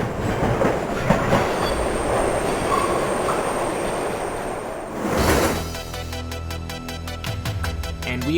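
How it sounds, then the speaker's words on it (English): Train sound effects in the retro video game 198X: a loud rumbling rail ride with clickety-clack and wheel squeal for about five seconds, then a swell giving way to rhythmic synth music. "The sound of the little sound effects of the train, everything is it's just so well done."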